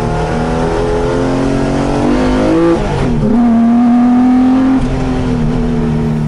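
A loud, heavily modified Porsche 911 revs hard up close, its harsh engine note climbing, dipping and surging again as the throttle is blipped, filling the whole moment without speech.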